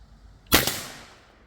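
A Seneca Double Shot big-bore PCP air rifle fires a single shot-shell round: one loud, sharp crack followed by a decaying tail, alone with no talk.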